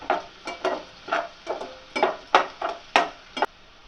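Onions frying with salt in a pan and stirred with a spoon, a steady rhythm of scraping strokes about every half second over a faint sizzle, close and clear with no talk.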